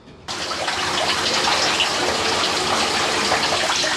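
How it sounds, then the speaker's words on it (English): Water gushes in a steady, close stream as shampoo is rinsed off a dog during a bath, starting abruptly and flowing on without pause. "make sure that you rinse all the shampoo out"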